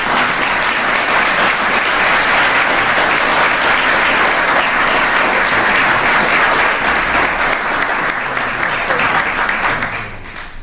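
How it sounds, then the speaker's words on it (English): Loud, sustained applause from an awards-night audience at a civic association ceremony honoring the Citizen of the Year, a thick unbroken wash of clapping lasting around ten seconds before tapering off at the end. "So let's give a round of applause to our 2019 Citizen of the Year Award, Jenny Kennedy."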